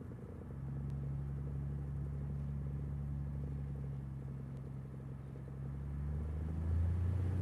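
Cessna 172 Skyhawk engine at full power on the takeoff roll, a steady, droning propeller hum with a low rumble that swells slightly toward the end, heard from inside the cabin.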